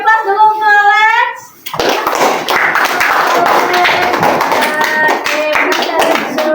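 A classroom of children applauds a student who just won a block-coding game, a dense burst of clapping that follows a teacher's speaking voice and continues steadily with scattered loud claps.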